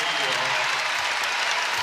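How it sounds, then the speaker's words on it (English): Arena crowd at an NCAA women's basketball tournament first-round game, Mercer vs UConn, giving a sustained ovation as the starters come off the court, dense continuous applause and cheering with a commentator's voice over it. "now the ovation as the starters start to come out"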